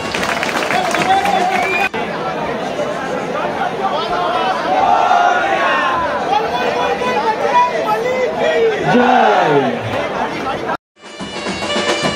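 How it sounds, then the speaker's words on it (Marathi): A crowd at a Dahi Handi practice camp, where Govinda teams form human pyramids, keeps up loud cheering, shouting and excited chatter throughout, with a brief drop near the end. "जरा जोरदार टाळ्या द्या"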